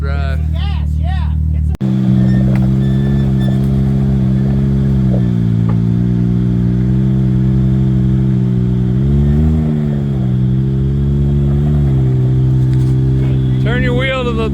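A Polaris RZR engine drones loudly and steadily as its wheels spin in two-wheel drive on rocky mountain ground, with pitch swells as the throttle rises; voices talk over it at the start and end.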